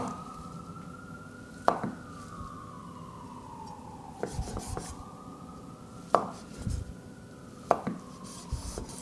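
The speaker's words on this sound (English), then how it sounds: "I'm gonna cut it literally into sticks." A knife cuts a sheet of rice cake into sticks for gungjung tteokbokki, giving four or five sharp, separate chops against a board. A faint siren wails in the background between the cuts.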